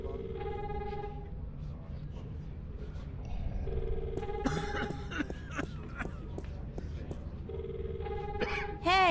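Telephone ringing in the adventure video game The Longest Journey, a repeated electronic ring in three spaced bursts over a steady background hum, mixed with other game sounds and clattering.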